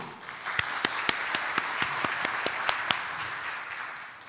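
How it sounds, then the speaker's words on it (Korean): Audience clapping in a church gathering, several people striking hands in a steady rhythmic beat of sharp distinct claps over a softer bed of scattered applause, fading toward the end. "이 가정을 위해서 박수!"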